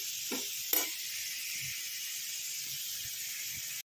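A steady, bright hiss of tempering spices sizzling in hot oil for a chutney, with a couple of small clicks near the start, then it cuts off.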